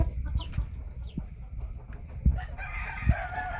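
Golden Phoenix chickens on a farm cluck in short, scattered calls, with a drawn-out crow toward the end, fairly close over quiet outdoor background.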